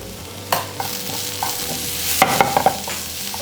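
Onion and capsicum stir-frying with masala for chilli chicken, a steady close sizzle with scraping stir strokes and a cluster of sharper clinks of the spoon against the pan near the end.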